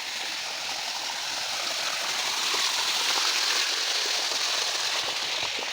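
Steady rain falls outdoors at a rural well site in Odisha, India, a dense, even wash of droplets that swells slightly midway and continues throughout with no talking.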